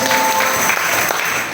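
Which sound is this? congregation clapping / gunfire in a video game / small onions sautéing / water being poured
congregation clapping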